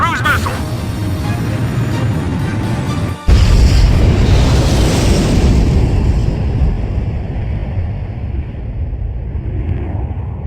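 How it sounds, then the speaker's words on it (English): Cruise missile explosion striking the mass driver in Ace Combat 5: a loud booming blast that cuts in abruptly after a short dip, then rumbles on and slowly fades over a steady low game drone. "Mass driver hit by cruise missile."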